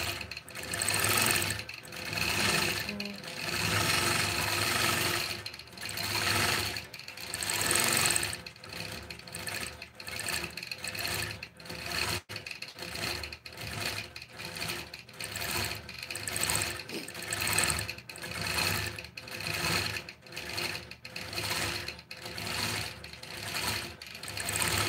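A longarm quilting machine stitches a spider web pattern on a small quilt, its motor whirring with a fast, steady mechanical rhythm that pauses and resumes in bursts, with no voices.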